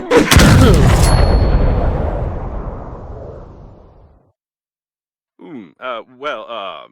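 A single heavy weapon blast in the Breathedge space game, fired at an airlock latch, booms loud and close, then rolls off in a long fading tail before a voice speaks after a pause.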